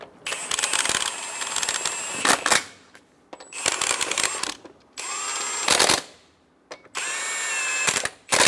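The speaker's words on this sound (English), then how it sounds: "Snug the lug nuts down." A power tool snugs down lug nuts on a 2014-2018 Chevrolet Silverado 1500 wheel. Four close, loud whirring, rattling bursts of one to two seconds each are separated by brief pauses.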